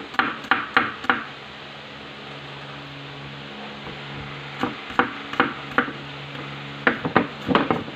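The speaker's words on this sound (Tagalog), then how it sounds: "Niliit ng sibuyas." Knife chopping onions into small pieces on a board, sharp close knocks in quick bursts of three to five strokes separated by pauses, over a steady low hum from a fan or appliance, with no talking.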